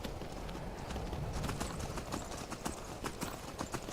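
Horse hooves clip-clop steadily in a wintry Skyrim game world, a continuous run of close, evenly spaced hoofbeats over a constant wind-like background.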